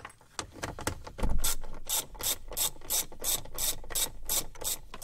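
A 3/8-inch ratchet drives a 7mm socket through an adapter while removing heater control screws on a Ram pickup, giving a steady run of crisp, close clicks of the pawl in quick rhythmic bursts, with no talking.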